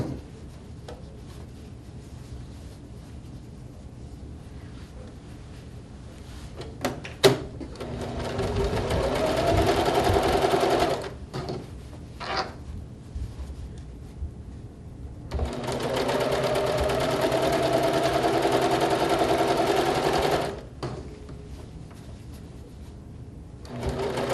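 A sewing machine stitches around a quilt's edges in two long steady runs of rapid mechanical whirring, separated by a pause with a few clicks and handling noises.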